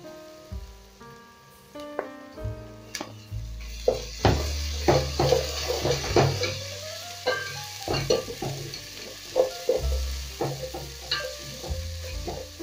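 Onions cooking in a one-pot rice and lentil dish until translucent, giving a steady close sizzle broken by repeated stirring scrapes and clinks of a utensil against the pot, with no voices.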